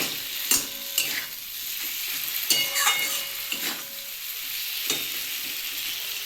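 Potatoes sizzle steadily in a hot, covered pan, with a few sharp clinks and scrapes of a utensil stirring, no voices.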